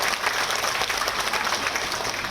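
Dense applause from a large crowd at an Indonesian political gathering, continuous and even, loud and close, filling the whole moment with a steady wash of clapping.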